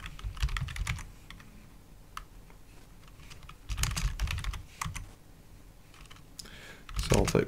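Quick, close typing on a computer keyboard while entering commands to create a FreeBSD 13.0 virtual machine, key clicks in irregular bursts with a louder flurry near the end.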